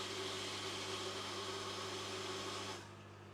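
Steady mechanical whirring and hiss with a constant low hum from a pond's metal drum filter running its cleaning cycle nearby, cutting off near the end.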